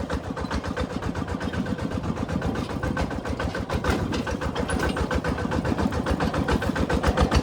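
A motorcycle engine runs close by with a fast, steady pulsing chug that builds slightly louder toward the end, with no talk over it.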